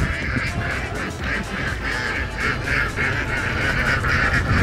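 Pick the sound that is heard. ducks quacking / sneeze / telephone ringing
ducks quacking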